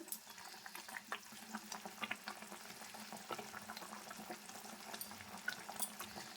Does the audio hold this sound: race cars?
no